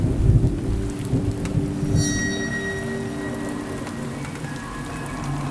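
Heavy rain pours steadily with rolling thunder rumbling low and close in a dark horror animation scene, no voices heard.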